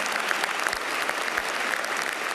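Sustained applause fills the Aula Magna of the University of Padua as Italy's President Sergio Mattarella enters, a dense, even patter of many hands from a large indoor audience.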